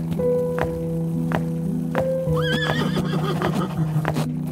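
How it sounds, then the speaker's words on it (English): Horses climbing a slope neigh and whinny loudly up close, with periodic thudding hoof steps at a regular pace beneath the calls. "The horses felt very exhausted climbing the remaining slope."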